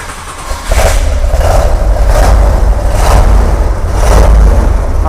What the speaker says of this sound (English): I'm going to go in the back and listen to you fire it up